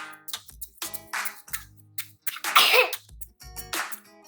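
A few sharp, abrupt bursts like sneezes or coughs come close together, with short quiet gaps between them.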